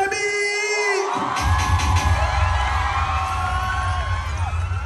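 A crowd at Kabugi's event cheers, whoops and shouts, sustained and loud, over a thumping low beat, with high voices rising and falling through the noise.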